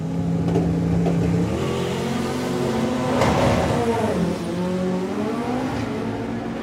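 A drag racing car makes a run at a doorslammer drag racing event. The engine howls steadily from a distance with rising and falling revs, sustained and fairly loud throughout.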